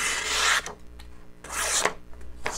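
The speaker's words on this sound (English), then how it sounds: "let me do a little cut test here for you" A thin, flat-ground Spyderco Spydiechef knife with a bronze-anodized handle makes two close, scraping cut strokes with short pauses between them.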